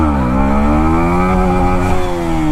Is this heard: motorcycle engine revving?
yes